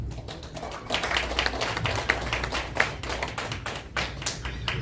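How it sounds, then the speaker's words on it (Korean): An audience claps to welcome a speaker at a Korean presentation event, a moderate patter of individual hand claps that builds into steady applause, fairly close. "뜨거운 박수로 모셔주기 바랍니다"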